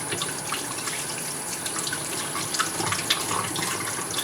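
Tap water runs steadily into a sink while hands are washed, a continuous broadband hiss with small splashy spikes toward the end, close and alone with no talking.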